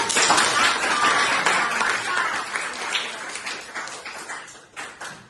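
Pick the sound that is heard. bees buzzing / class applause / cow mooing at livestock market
class applause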